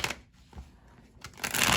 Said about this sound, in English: let me shuffle the cards, see what else we get